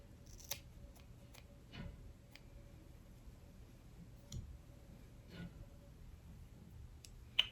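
Scissors cutting hair at home: a handful of sharp, separate snips spaced irregularly over quiet room tone, close and fairly faint.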